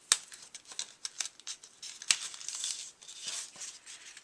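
Paper album pages with gussets are folded and creased, producing a series of soft crinkles, rustles and sharp paper snaps at close range, irregular and fairly quiet.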